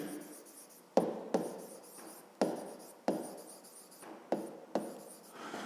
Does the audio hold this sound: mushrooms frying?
no